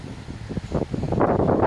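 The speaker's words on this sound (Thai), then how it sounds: "เพราะว่าลมแรงขนาดนี้นะจ๊ะพี่น้อง" Strong wind gusts through trees outdoors, a rushing, rustling roar that builds and swells loudly toward the end.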